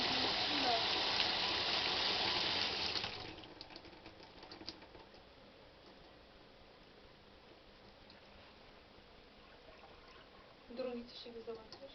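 A shower head spraying water downward, a loud dense hiss for about three seconds that then cuts away to quiet room tone with faint clicks and a short burst near the end.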